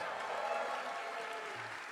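A theatre audience at a game premiere applauds and cheers in a steady, moderately distant wash of clapping and crowd noise that tapers slightly toward the end.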